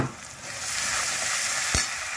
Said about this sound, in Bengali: এবার একটু আদা দিলাম,